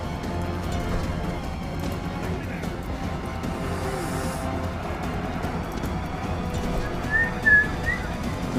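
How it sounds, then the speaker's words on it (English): Brief person whistling, a short high melodic phrase near the end, heard faintly over background game sounds during a Rome: Total War session. "don't whistle while you're doing the Let's Play"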